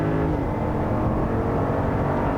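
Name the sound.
Jeep Grand Wagoneer 6.4 engine accelerating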